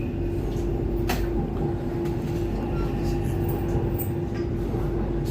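A DLR B23 Stock light-rail train runs between stations on the London Docklands Light Railway, a steady loud rumble and drone heard from inside the car with a constant whine and occasional faint clunks, no talking.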